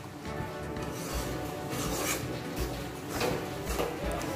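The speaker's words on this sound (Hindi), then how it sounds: "इसको चलाते हुए 6 मिनट भून लेना है।" Semolina (rava) is stirred and dry-roasted in a pan over medium-low gas for upma, giving close, repeated scraping and rubbing strokes in an uneven rhythm, with no talking.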